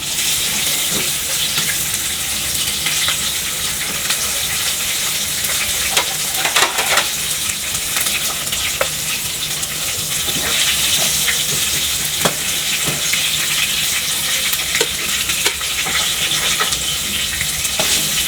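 Chicken frying in a pan with homemade spices, a loud continuous crackling sizzle that stays dense and even throughout, with occasional sharper pops and utensil taps, close up.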